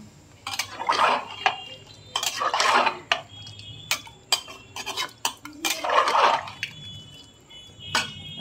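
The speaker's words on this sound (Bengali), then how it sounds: "এবার এটাকে ভালো করে নাড়বো" A utensil stirs chicken soup in a pot, clinking and scraping against the metal in irregular bursts with small splashes, close and distinct, with no talking.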